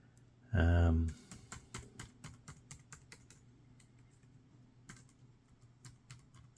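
Typing on the keyboard of a pink HP Stream 11 laptop: a loud thump opens, then a run of crisp, close key clicks in a quick irregular rhythm, a pause, and a few more scattered taps.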